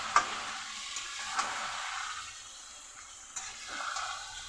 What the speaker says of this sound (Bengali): পুরো পেস্টটাই দিয়ে দেবো দিয়ে ভালো করে কষাতে থাকবো প্রায় দশ মিনিট